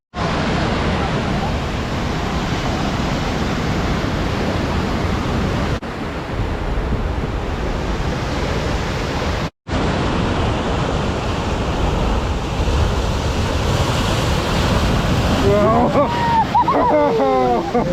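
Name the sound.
ocean waves crashing against the shore in Bandra, Mumbai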